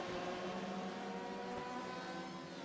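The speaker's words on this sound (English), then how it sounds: "our GT3 car, coming through the final corner now for the first time on a hot lap" GT3 race cars on the Long Beach street circuit in the iRacing video game, a sustained engine roar holding steady at high revs through the final corner, loud and continuous with no gaps.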